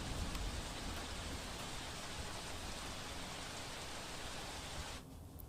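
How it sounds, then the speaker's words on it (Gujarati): Heavy monsoon rain pours steadily over forested countryside in Dang, Gujarat, a dense unbroken hiss that drops off abruptly near the end, with no voices. "આ વરસાદની સ્થિતિ વઘઈ અને સુબીર તાલુકામાં જોવા મળી"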